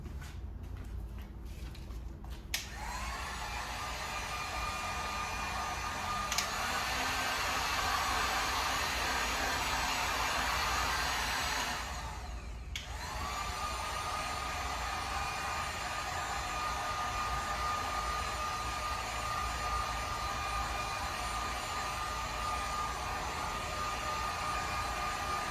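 A heat gun warms the adhesive line on a 2014 Toyota FJ Cruiser emblem, blowing a steady loud whooshing roar up close for the whole stretch, briefly cutting out and restarting partway through.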